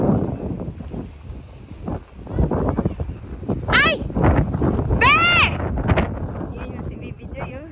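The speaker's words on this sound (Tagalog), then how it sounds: "Lakas ng hangin talaga guys." Strong gusts sweep across Tung Lung Chau island, a rough low rumble pounding the microphone while several people talk and call out over the noise.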